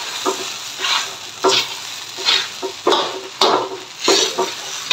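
Sabudana stirred and frying in a pan, with rhythmic scraping stirs over a steady close sizzle and no talk.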